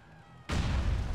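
A grenade going off in the video game GTA The Lost and Damned, a sudden loud, heavy boom that breaks a quiet background and rolls on as a dense rumbling blast.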